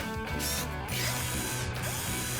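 A cartoon gear repair in which a bolt is tightened, heard as a close, rapid ratcheting clatter of small mechanical clicks running continuously over a busy background of whirring gears.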